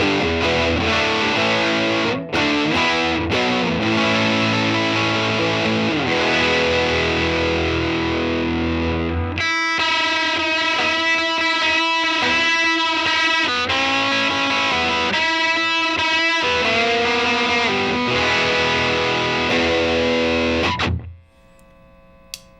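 Electric guitar run through a RAT distortion pedal plays loud, saturated chords for about twenty seconds, shifting midway to a brighter, choppier riff before the sustain cuts off and rings out.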